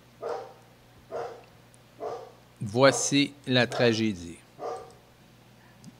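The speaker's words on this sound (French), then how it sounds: "Excusez l'interruption avec le chien." A dog barks repeatedly in short bursts, several distinct barks spaced across the moment, with a person speaking over the middle of them indoors.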